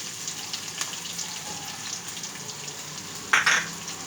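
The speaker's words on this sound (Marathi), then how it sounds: "आपण कांदा घालून घेतोय." Onion frying in a pan for a cabbage dish, a steady soft sizzle throughout with a brief louder burst of hiss near the end, close and alone with no talking.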